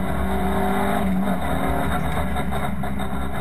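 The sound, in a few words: VW Cup race cars driving at Spa-Francorchamps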